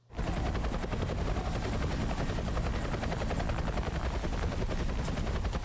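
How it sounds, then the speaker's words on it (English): Helicopter rotor noise from a TV drama plays loud and steady throughout, a continuous rapid thudding chop over a broad roar, with no talk over it. "I wonder if a chopper can actually carry that weight."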